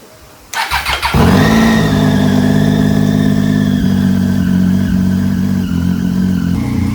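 A Triumph Tiger 800 motorcycle engine fires up after half a second of quiet and settles into a loud, steady idle with a slight rev, close by in a workshop during cylinder calibration.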